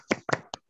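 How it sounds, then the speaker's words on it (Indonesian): A few scattered hand claps, three separate bursts, from a small online class group applauding a student named Liani; sparse and close, not a full crowd. "Kasih tepuk tangan juga buat Liani"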